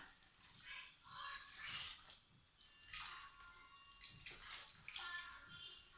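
Water pours and splashes into gravy in uneven bursts, fairly close, a gurgling stream that rises and falls over several seconds.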